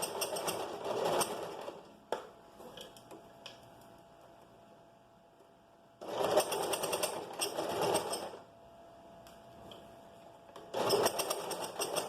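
A sewing machine runs a waistband seam on a flared skirt in two clear bursts of steady stitching, with near-silent pauses and a faint hum between them.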